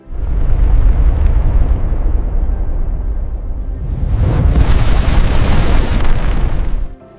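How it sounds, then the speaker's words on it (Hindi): A massive, roaring explosion builds into a loud sustained rumble, then a second surging blast with crackling debris before cutting off abruptly. "धमाका।"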